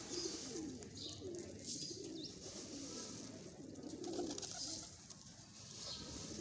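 Pet pigeons being fed millet coo softly and repeatedly in low, throaty calls, with a steady outdoor hiss and faint rustling behind them.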